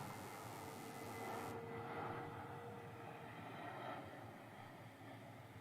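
A Thomas Cook airliner in standard blue livery at Manchester Airport, a steady, broad engine roar from a distance that holds throughout and eases slightly toward the end.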